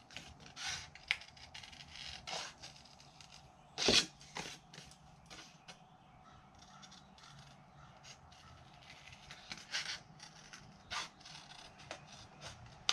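Scissors trim envelope paper for a small platform box, giving quiet, intermittent snips and papery rustles with one sharper cut near the middle.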